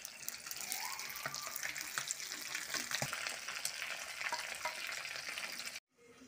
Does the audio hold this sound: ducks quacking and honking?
no